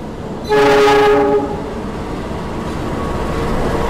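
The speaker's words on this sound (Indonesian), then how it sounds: "Jalur 2 masuk kereta api Kertajaya." The Kertajaya passenger train arrives at Jatibarang station, sounding a loud sustained horn for about a second, followed by the steady rumble of the long train rolling past close by.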